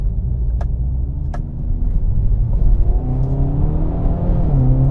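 A 2022 Hyundai Veloster N with dual-clutch transmission accelerates hard in N mode, its engine rising through the revs with a climbing tone and a shift near the end, loud and close from inside the cabin, with a few sharp pops early.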